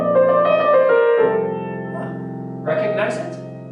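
Closing section of the second movement of Beethoven's Spring Sonata, played on violin and piano with a sustained singing violin line over soft, close piano chords, fading gently.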